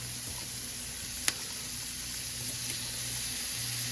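Garlic frying with onion in oil, a continuous soft sizzle over a background hum, with one sharp tap early on and little else.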